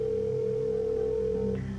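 A steady telephone tone hums alone as a call is placed on the game show Who Wants to Be a Millionaire, remade in Minecraft. Near the end it gives way to a brief line click.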